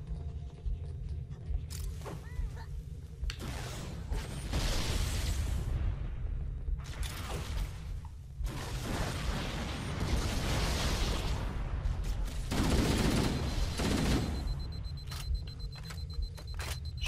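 Explosions from the video game Halo: Combat Evolved Anniversary: several heavy booming bursts with rumbling, mechanical tails across the stretch, rising and falling in waves, fairly close and loud, with no talking over them.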